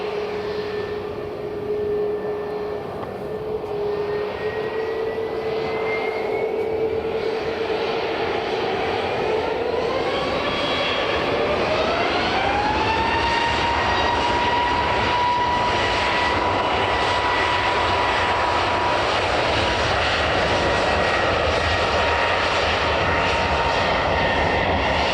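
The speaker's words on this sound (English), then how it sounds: "We've got a WestJet 737 MAX on the move." A WestJet Boeing 737 MAX taxis at Edinburgh Airport, its jet engines holding a loud, steady whine whose pitch climbs midway and then settles at a higher tone, continuous throughout with no voices.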